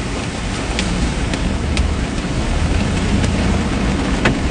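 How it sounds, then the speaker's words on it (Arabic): A flash-flood waterfall roars down a wadi in Khor Fakkan, UAE, during strong storm runoff: a steady, dense rushing wash that stays loud and unbroken throughout, with no voices. "شوفوا ذاك الشلال يطبل شلال شرف"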